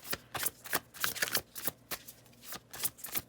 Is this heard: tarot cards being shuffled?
yes